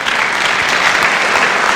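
Loud, dense applause from an audience at a talk on faith and science, many hands clapping in an unbroken roar close by with no talking.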